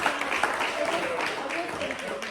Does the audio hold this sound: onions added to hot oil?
no